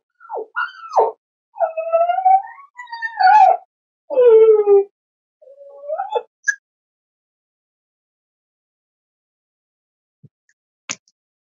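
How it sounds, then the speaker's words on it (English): A recorded dog gives a handful of close, drawn-out yelping and howling calls, then silence broken by two faint clicks. "Let's play some barking sound here."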